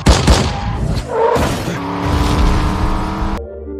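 Film action scene from a car chase, with a rapid burst of gunfire and an explosive impact up front, then a loud sustained engine roar with a tonal whine as the car speeds away; no talking.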